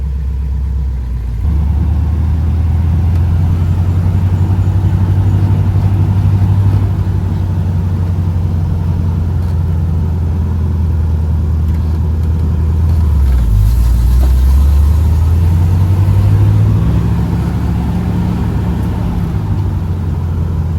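A 1978 Chevy Camaro engine drones steadily while driving, a loud, close, low rumble from inside the car that rises and dips slightly in pitch partway through, with no talking.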